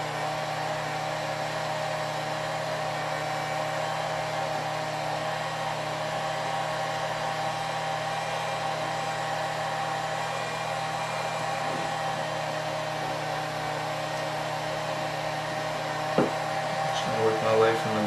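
A heat gun blows on vinyl wrap being applied to an S2000 shift ring, giving a steady, close whirring hum of airflow and motor that stays even throughout, with a few brief handling knocks near the end.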